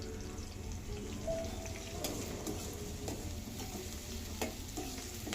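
Onions fry in a pan, sizzling quietly and steadily while being stirred, with scattered light crackles and utensil taps across the whole stretch.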